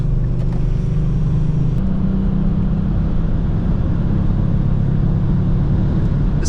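A 2018 Kia Stinger GT cruises down an empty highway late at night, a steady close cabin drone of engine and tyre roar with constant wind and road noise and no talking.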